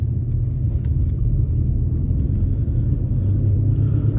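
Inside a moving vehicle with several failing wheel hubs, a steady, loud low droning rumble holds throughout without any talk.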